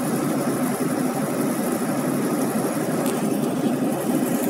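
A truck engine drones steadily while the vehicle drives along a highway, hauling a load of cardboard paper. The rumble is loud and continuous, with road noise and no speech.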